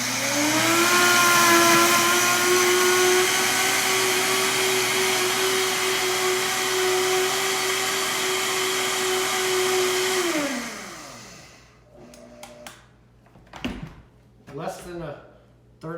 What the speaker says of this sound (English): I'm going to turn on our Vitamix here.